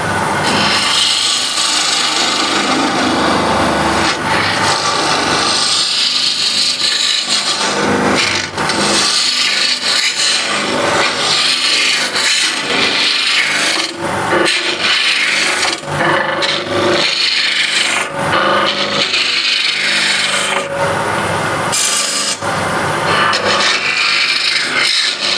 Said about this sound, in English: I'll use spindle gouge this time, a little bigger one, 1/2 inch